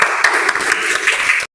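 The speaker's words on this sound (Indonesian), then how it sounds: "tepuk tangan untuk kelompok 2" A classroom group claps for the second discussion group, a short burst of loud, dense applause that cuts off abruptly.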